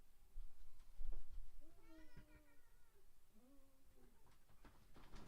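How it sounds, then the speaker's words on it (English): An indoor cat gives two fairly quiet drawn-out meows a second or so apart, with faint room noise and a few soft knocks around them. "I was teasing the poor cat."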